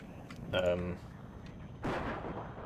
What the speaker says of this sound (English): Got some mortars going